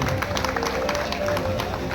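Steady crowd applause for Basavaraj fills the hall at a state-level Vishwakarma Mahasabha bride-and-groom convention in Karnataka, a dense continuous patter of clapping hands with a faint murmur of voices beneath.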